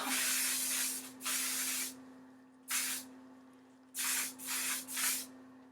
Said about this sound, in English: So I'm just going to put a little bit of hairspray in it to hold it.